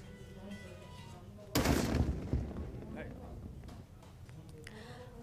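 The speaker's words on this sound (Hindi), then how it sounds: "जब बम को डिफ्यूज करते समय तेज धमाका हुआ।" A live bomb explodes while being defused near Sadhera village in Lunkaransar, Bikaner: one sudden heavy blast breaks through the background and then fades under ongoing talk.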